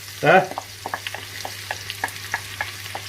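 Two whole chopped onions sizzle and fry in a pan for onion gravy, with a soft steady sizzle broken by an initial burst and a series of light stirring scrapes and clicks.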